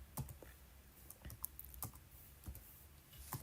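Fast irregular typing on a computer keyboard while entering text in a word-processing document: scattered sharp key clicks in short bursts, close and fairly quiet, no voices.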